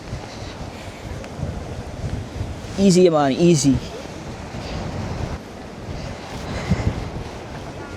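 Strong wind buffets the microphone on a rocky coastal hiking trail near the ocean, a constant low roaring rumble throughout, with a person speaking briefly over it in the middle.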